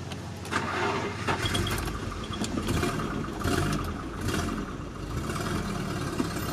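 A car engine fires up and runs roughly through an open exhaust pipe with no muffler, a loud, raw, uneven rumble with crackling bursts that surges and sags as if struggling to stay running.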